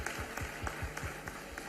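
Audience applause at a youth dialogue event in a university hall in Bhopal, a brief patter of clapping heard at moderate distance with a faint voice underneath.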